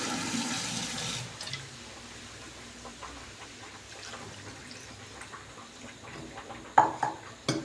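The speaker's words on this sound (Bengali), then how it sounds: "এখন দুই কাপ মতন পানি অ্যাড করবো আমি" About two cups of water poured into a pot of cooking chicken curry, a steady rushing gush up close for the first second, then settling into quieter splashing with a few sharp clinks of the pot near the end.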